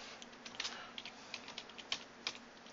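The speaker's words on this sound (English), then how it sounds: "I know, I overtype things." Someone types on a computer keyboard with light, uneven clicks and taps in short bursts. The keystrokes are close but quiet, and no one speaks.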